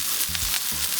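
Duck breast sizzles in its own rendered duck fat in a pan on a Kamado grill, a steady close crackling hiss with a couple of brief soft bumps.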